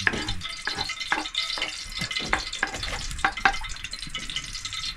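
Garlic frying in hot cooking oil, a steady close sizzle with bursts of crackle and intermittent stirring scrapes through the whole stretch, no talking.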